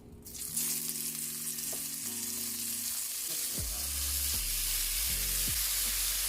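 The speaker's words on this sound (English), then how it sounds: "Fry up the shrimp." Shrimp fry in a pan for Jamaican-style fried rice, giving a steady, loud, broadband sizzle that continues throughout, with a few low clunks and scrapes as the pan is handled and the shrimp are stirred.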